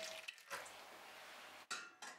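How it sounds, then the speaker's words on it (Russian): Boiling water is poured over pike roe in a bowl, giving a close splashing rush in short bursts with brief pauses between pours. "Заливаем кипятком."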